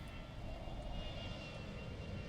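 An airplane droning overhead in the city-building game The Universim, a steady, continuous engine hum that holds at an even level throughout, with no voices.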